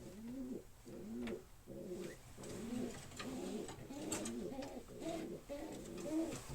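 Racing pigeons coo inside a loft, a repeated run of throaty, rolling calls in a steady rhythm, fairly close and moderately loud.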